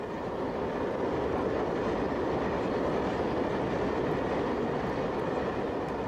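A passing train gives a steady, dense rumbling roar of wheels on rails that holds at an even level throughout, with no voices.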